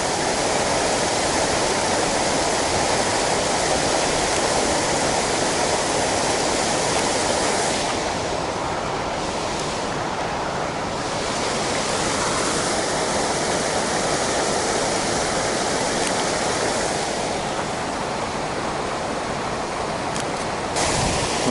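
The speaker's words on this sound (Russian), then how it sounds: "здесь этот водопад идет" Steady roar of falling water from a nearby waterfall by a lake at a reservoir, loud and continuous, with no voices.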